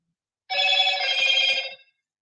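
A telephone rings loudly and close, one continuous trilling burst lasting about a second and a half, alone in an otherwise silent room.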